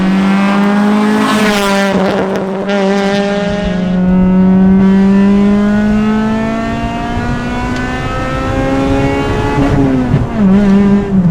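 A Honda Integra Type R engine revs hard and steadily climbs in pitch, a loud, sustained exhaust roar with brief dips as gears shift, heard from inside the car.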